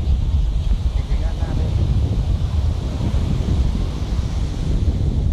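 Sea waves and strong wind on a beach in Vietnam, a constant loud rumbling wash of surf with heavy wind buffeting the microphone throughout.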